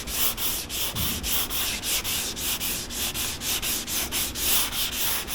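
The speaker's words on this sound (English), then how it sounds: "Find it's easier just to use the old sanding block." Steady rhythmic scrubbing of a sanding block worked by hand across a truck body panel during a frame-off restoration of a 1995 Ford F-Series Super Duty crew cab 4x4, close and loud, with regular back-and-forth strokes and no talk.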